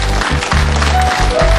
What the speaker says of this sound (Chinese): 热烈掌声来欢迎特别嘉宾朱立安